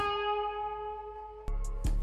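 A single tuned guitar accent note rings out with a bright, stacked harmonic tone and slowly fades over a trap beat. Sharp percussive hits then cut in near the end, loud and close.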